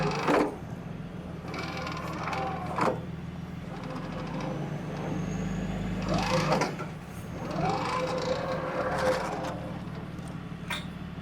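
A Massey Ferguson 130 tractor engine being cranked after sitting unused for 15 years, a steady mechanical churning drone that keeps on with surging pulses and no firing catch, close and loud throughout.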